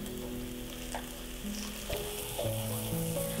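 French toast made from bread dipped in a custard mixture sizzles steadily in a hot frying pan, a close, continuous crackle with faint clinks and tonal kitchen hum beneath.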